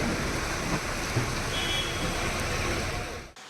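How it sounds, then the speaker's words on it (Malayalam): Steady summer rain falls in a broad, even hiss that fills the scene without a break, then cuts off abruptly at the end. "പൊള്ളുന്ന ചൂടിനാശ്വാസമായി കാസർഗോഡും കണ്ണൂരും വേനൽ മഴ ലഭിച്ചു."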